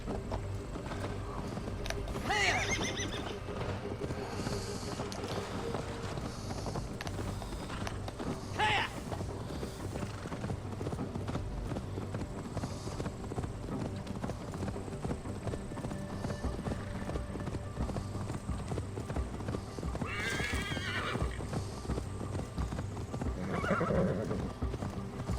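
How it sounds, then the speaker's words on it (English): Horse in Assassin's Creed Valhalla, set in Essexe, neighing a few times over steady hoof clip-clops, with game ambience and music throughout. "I forgot the horse already there."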